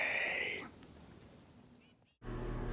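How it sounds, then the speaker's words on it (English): Birds in mountaintop woods chirp and call in bright, high bursts, loudest at the start and then sparse and faint, with a low voice-like rumble returning at the end. "The birds have gone crazy."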